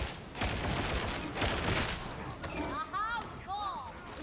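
Gunfire in Warhammer 40,000: Darktide: dense bursts of shots in the first half give way to sporadic firing, with high whistling, whooshing effects sweeping through the latter half, moderately loud.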